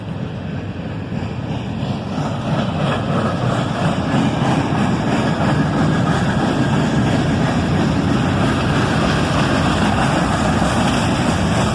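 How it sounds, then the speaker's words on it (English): An ES-40DC and an old Dash 8 locomotive in YN2 paint pull a manifest train, a steady rumbling roar that builds slightly and holds under wind buffeting the microphone. "An ES-40DC and an old Dash 8 in the YN2 paint scheme get this manifest train moving again"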